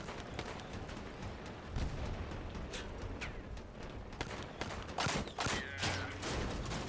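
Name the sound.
autocannon fire in the video game Crossout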